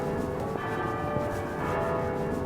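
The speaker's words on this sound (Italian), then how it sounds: "Oh, ma continuano a battere le campane già da un bel po'." Church bells ring at noon near a cathedral in Ireland, a dense continuous wash of overlapping metallic tones heard from a distance, steady throughout with no talking.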